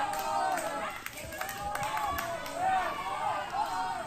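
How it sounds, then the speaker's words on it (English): Dense crowd of people cheering and whooping on a talk radio show, a steady wash of voices with rising shouts and possible clapping, loud and continuous throughout. "Sounds like people cheering to me."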